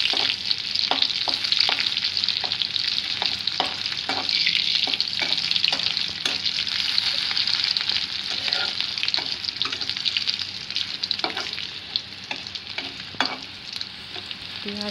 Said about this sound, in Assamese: অলপ পিঁয়াজ নহৰু তেলতে দি দিছে